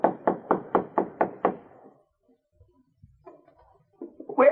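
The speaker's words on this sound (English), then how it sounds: "Art knocked on the door." Six quick, firm knocks on a wooden cabin door in a radio drama sound effect, close and evenly paced. Faint shuffling follows, then a louder bump near the end.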